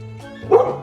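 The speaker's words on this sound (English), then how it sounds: "There's some dogs coming our way." A dog gives a single short, close bark that rises into a yelp as other dogs approach during a walk on a harness.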